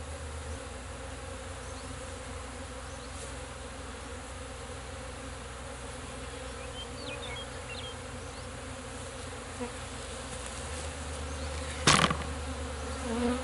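A large honey bee colony hums in a removed hive during a cut-out, a steady dense buzz close by, with a brief sharp knock near the end.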